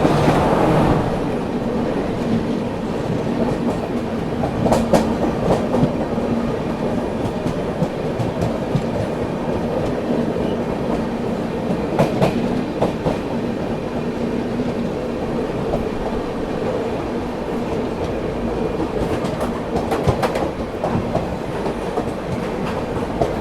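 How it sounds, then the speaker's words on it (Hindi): The Hadapsar Pune–Kazipet Express rumbles past while crossing another train, loud and close, with a continuous roar and rhythmic clatter of wheels over rail joints throughout. "यहाँ पर अपने से क्रॉस होती हुई हड़पसर पुणे काजीपेट एक्सप्रेस।"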